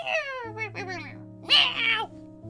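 A human voice mimics a cat's meow, a few rising and falling mewing calls over a steady low hum, delivered close and fairly loud as part of a spoken tabletop role-play.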